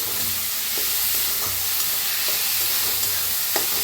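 Onion and tomato sizzle in a pan with a steady frying hiss, broken by a few soft scrapes of stirring.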